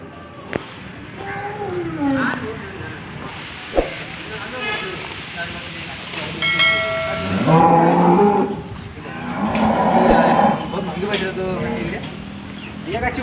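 Cows at the Loni cattle market moo in several long, loud calls near and far, over steady crowd noise, with people talking throughout and a few sharp knocks.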